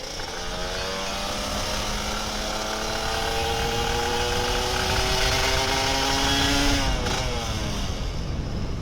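A Kawasaki Ninja RR 150 two-stroke motorcycle on a night ride runs loud and close, its engine note climbing steadily as the rider accelerates, then dropping sharply near the end, all under a constant roar of wind.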